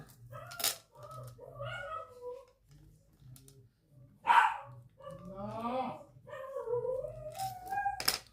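Ruby, a pet dog, barks at another dog seen through a window, giving sharp indoor barks between stretches of speech from a person in the room.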